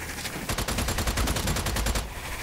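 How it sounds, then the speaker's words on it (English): Rapid string of sharp cracks from a cluster bomb exploding in the video game Strange Brigade, a loud crackling volley over roughly a second and a half. "I threw a cluster bomb as well."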